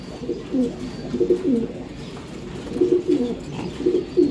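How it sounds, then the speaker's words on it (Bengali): Young racing pigeons cooing close by, soft repeated low throaty coos in short bursts with brief pauses, no talking. "এই কবুতর সব ইয়াং কবুতর"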